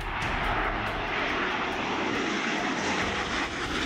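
Indian Air Force fighter jets landing on the Lucknow-Agra Expressway near Unnao, a loud, sustained roaring engine rush that stays close and powerful for the whole stretch with no voices.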